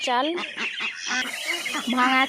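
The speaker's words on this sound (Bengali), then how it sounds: "হাঁসগুলো আমরা এখানেই রেখেছি" Ducks on a village duck farm give loud, repeated honking quacks close by, several calls overlapping in quick succession throughout.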